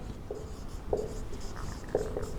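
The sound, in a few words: writing on paper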